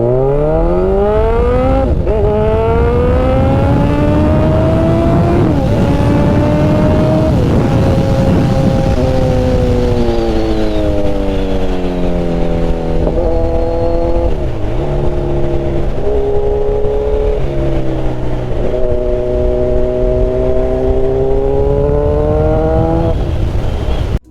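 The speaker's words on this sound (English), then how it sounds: "here's the flyby of the bike as promised" A silver limited-edition Kawasaki Ninja 1000 motorcycle revs and sweeps past in a loud, close flyby, its engine note climbing, dipping and rising again through repeated throttle changes before cutting off, with no voices.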